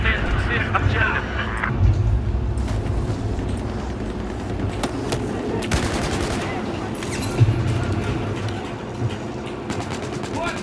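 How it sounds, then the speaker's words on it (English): Gunfire in the video game Battlefield 4, a steady rattle of automatic shots with a few sharper cracks, loud and constant over a dense rumbling battle background. "I'm being shot at."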